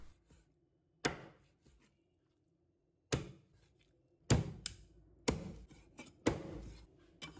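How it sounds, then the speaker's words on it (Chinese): A cleaver chops chicken into small pieces on a board, with sharp separate strikes, a few single blows at first and then quicker heavy chops, in a quiet kitchen. "再把它剁成小块。"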